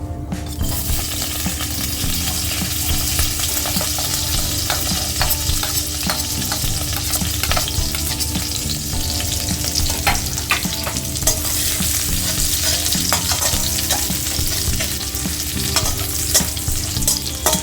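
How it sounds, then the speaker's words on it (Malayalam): Finely chopped ginger and garlic sizzle steadily in hot oil, a dense continuous frying hiss with scattered light clinks and scrapes of stirring throughout, close and fairly loud with no voices. "ഓയിൽ ചൂടായി വന്നിട്ടുണ്ട്. നമുക്കതിനകത്തോട്ട് പൊടിയായി അരിഞ്ഞിരിക്കുന്ന ഇഞ്ചിയും വെളുത്തുള്ളിയും ഇട്ട് കൊടുക്കാം."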